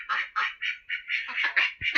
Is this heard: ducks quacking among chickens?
yes